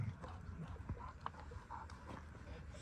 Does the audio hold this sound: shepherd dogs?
yes